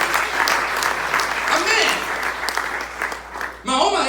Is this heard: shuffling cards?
no